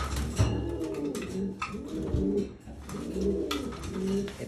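Lewis Opel racing pigeons coo in repeated rolling, throaty phrases close by, about four swelling calls in a steady rhythm, with faint chirps and background noise around them.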